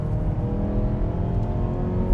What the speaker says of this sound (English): You hear the revving, even though I'm off the gas there.